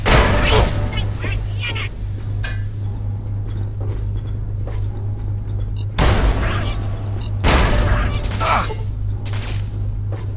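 Frag mines blow up in Fallout 3 as a pair of sharp, loud broadband bursts about one and a half seconds apart, with scattered gunfire cracks and a steady low hum behind them.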